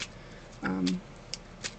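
A deck of song cards being shuffled by hand gives a short papery riffle and flutter, close and fairly quiet, followed by a few faint card ticks in an otherwise hushed room.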